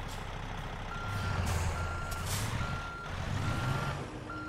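A truck's reversing alarm beeps steadily over a loud, rumbling engine in the game American Truck Simulator, several evenly spaced beeps repeating without any talking.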